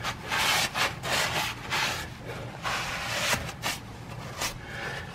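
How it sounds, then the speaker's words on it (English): Rag wiping brake parts on a Ram truck's rear rotor assembly after spraying brake clean: continuous close rubbing and swishing with uneven strokes, no talk. "Brake clean evaporates pretty quick, but I like to just give everything a bit of a wipe."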